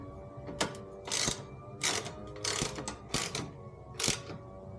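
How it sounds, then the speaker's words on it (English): Ratchet wrench tightening bolts on a T Rex skid plate, heard as about six bursts of rapid clicking in a steady on-off rhythm, close and fairly loud, with no talking. "Tighten this down just a bit."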